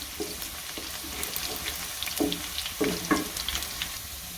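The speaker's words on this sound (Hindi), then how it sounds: "उसके अंदर एक दरमियाना प्याज डाल के तो उसको हम कर रहे हैं फ्राई" Medium onion frying in about five tablespoons of oil in a karahi, a soft continuous sizzle with scattered clinks and stirring scrapes, moderately close and fairly quiet throughout.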